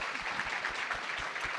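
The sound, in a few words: audience applause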